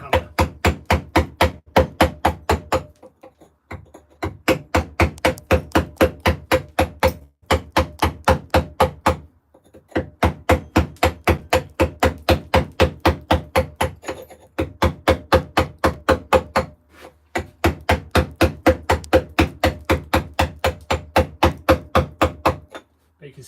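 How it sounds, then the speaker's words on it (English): A hammer strikes repeatedly during stone carving, coming in rapid bursts of sharp metallic knocks, about a dozen blows per burst, separated by short pauses, loud and close with no voices. "swing the hammer."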